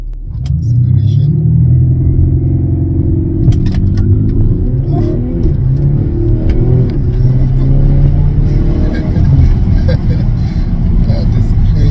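A 2015 Audi SQ5 3.0 BiTDI launches hard from a standstill with traction control off, its loud, deep engine roar climbing steadily and filling the whole stretch, with brief faint clicks early on.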